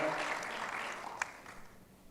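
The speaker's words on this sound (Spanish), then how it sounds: "Let's give a round of applause to Fernanda." Audience applauding a speaker at a conference on protecting names, images and likenesses, a brief, moderately faint burst of clapping that fades out within two seconds.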